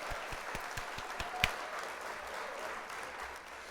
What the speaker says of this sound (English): You got to hit up some applause.